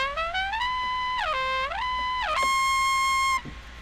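A synthesized trumpet tone on a keyboard, built for a Tejano brass section, slides upward repeatedly with the pitch-bend wheel before holding a bright sustained note. The phrase is clear and alone, with no talking, and cuts off sharply at the end.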